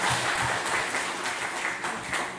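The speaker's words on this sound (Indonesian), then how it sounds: "Kita berikan tepuk tangan sekali lagi." Church congregation at a Sunday service applauding after a hymn of praise, a fairly soft but steady round of many hands clapping throughout, with no voices over it.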